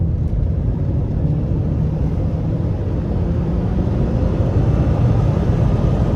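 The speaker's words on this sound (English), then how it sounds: "There's a little bit of wind noise from the windows, but this thing drives straight." Wind rushing past the windows of a moving Subaru Forester XT, a steady low roar of road and air noise heard from inside the cabin, with no talk.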